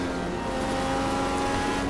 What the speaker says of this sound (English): So the pace car is moving away.